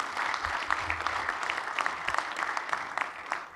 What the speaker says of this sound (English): If we can give them a round of applause and all the work that they've done